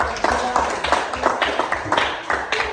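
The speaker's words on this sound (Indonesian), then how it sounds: "Berikan aplaus untuk kelompok" Applause for a presenting student group in a classroom: a steady run of many hands clapping at close range, fairly loud, with repeated sharp bursts across the whole span.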